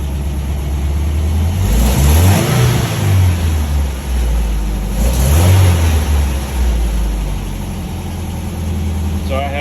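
An MGB's engine idles unevenly with carburetors not yet adjusted, rising in two strong revs before settling back to a loud, steady idle close by.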